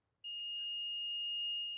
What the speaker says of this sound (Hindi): बीप का साउंड आ रहा है